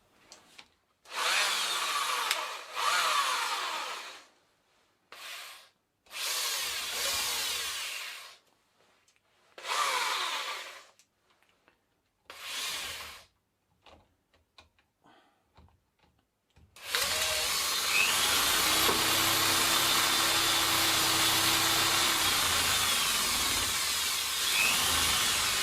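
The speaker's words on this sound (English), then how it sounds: "Now let's try a normal drill." An electric drill spins a bicycle dynamo in several short bursts separated by pauses, then runs steadily with a high whine for the last several seconds.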